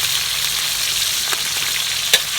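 Pork belly sizzles steadily in hot oil in a pan over medium heat, a dense continuous crackle with a sharp spatter pop near the end and no voices.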